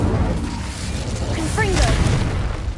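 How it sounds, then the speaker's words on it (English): Incendio fire spell cast in Hogwarts Legacy, a brief whooshing burst of flame rising over a dense, busy game soundscape, with a voice talking through it. "Incendio."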